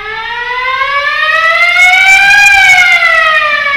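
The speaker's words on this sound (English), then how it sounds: "We also have a siren that's telling everybody the planet's going to explode." A loud, sustained siren tone played by an orchestra in a symphony, rising in pitch, peaking, then slowly falling, rich in harmonics and steady without pauses.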